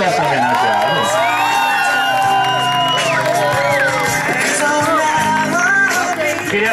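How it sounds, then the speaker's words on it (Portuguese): A crowd cheers a tribute during a romantic reconciliation surprise in Santo André, with loud overlapping whoops, shouts and excited voices close by. Distinct clapping is hard to pick out. "Uma salva de palmas por essa homenagem."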